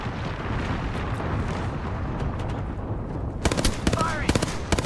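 Gunfire from the Apex Legends video game, heard as a dense wash of battle noise that gives way to a burst of sharp, rapid shots near the end.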